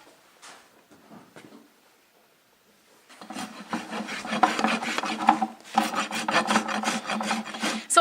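A rasp files a horse's hoof during a trim. After a few faint scrapes, a loud, steady run of coarse back-and-forth rasping strokes starts about midway and continues to the end, with no talk.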